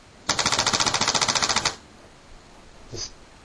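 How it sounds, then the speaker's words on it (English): Laser-triggered paintball gun firing a fast, even string of about fifteen sharp clicks over roughly a second and a half, loud and close, followed by quiet with a couple of faint knocks. "Each one of those clicks is a paintball firing at somebody because they just walked in front of a laser"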